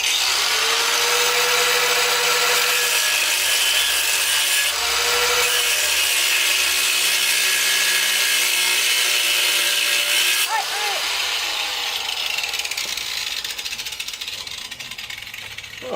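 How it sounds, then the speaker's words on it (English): An angle grinder cuts through material in a long, loud, continuous whine that dips briefly, then changes pitch partway through and gradually fades. "that's our first angle grinder cut"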